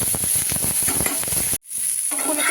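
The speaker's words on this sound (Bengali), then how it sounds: "তেলটা আমার গরম হয়ে গেছে এখন ফুলকপিগুলোকে আমি ভেজে নিচ্ছি" Cauliflower florets fry in hot oil with a loud, dense sizzle and crackle, cut by a brief drop to silence before the frying noise resumes more softly.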